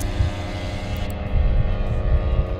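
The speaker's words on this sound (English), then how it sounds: "there is a slightly muffled sound effect of RC planes about to take off" A muffled sound effect of RC planes about to take off, layered with pitch-shifted wind, gives a low, steady propeller drone and hum that swells in the second half, dull and soft-edged, with no voices.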